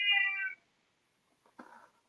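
A pet kitty lets out a loud, close meow lasting about half a second, then goes quiet before a shorter, rougher second cry follows.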